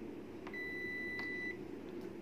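A Toshiba RC-10VGD 1-litre rice cooker gives a single clear electronic beep when switched off from its keep-warm mode, close and steady for about a second, with small taps around it and a faint hum of the room behind.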